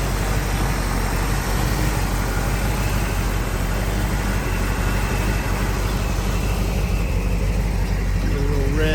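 A 1968 Shelby GT500 KR convertible with a factory 4-speed idles steadily, a loud, even low rumble held close and unbroken throughout.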